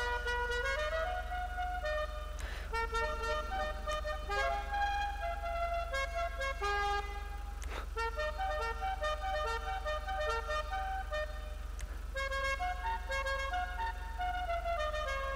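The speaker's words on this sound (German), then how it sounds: "Also Hupe." A car horn on a company car being tuned sounds in repeated, sustained musical blasts, fairly loud and steady, with a constant low hum underneath and no talking.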